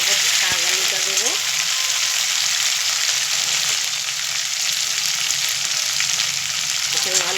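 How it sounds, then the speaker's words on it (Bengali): Chicken pieces sizzle and fry steadily in a pan for a home-cooked Bengali dish with greens and potatoes, a dense, even hiss close by with a few light stirring scrapes near the start and end. "চিকেনটা দিয়ে একটু ভাজা ভাজা করে নেবো"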